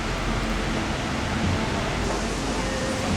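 A Tennessee waterfall roars in a steady, broadband rush of falling water, constant and fairly close, with no other sounds standing out.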